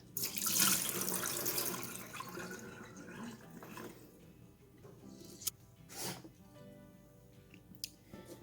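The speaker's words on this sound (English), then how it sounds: "I'm just gonna drain this out." Water from soaked sprouting seeds drains out of a glass jar through a sprouting lid, a rushing pour at first that thins into light trickles, drips and a few small clicks and knocks.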